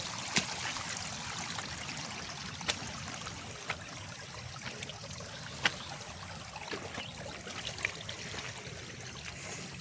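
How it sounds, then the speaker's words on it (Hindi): A rain-fed stream runs steadily along a trek trail near Thane, Maharashtra, a constant rushing, trickling wash close by with a few sharp clicks. "पूरा पानी आ रहा है।"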